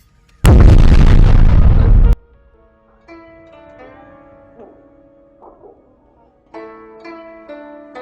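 A loud, sudden explosion in the space exploration game Outer Wilds, a dense blast lasting under two seconds that cuts off abruptly, followed by quieter tonal game music and chimes.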